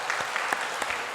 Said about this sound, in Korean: 우리 네 분에게 축복의 박수 하겠습니다.